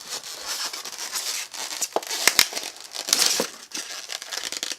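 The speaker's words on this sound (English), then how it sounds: "So why am I opening this box?" A cardboard box package taped all the way around is torn open, with close crinkling, ripping tape and crumpling packaging in uneven bursts and no speech.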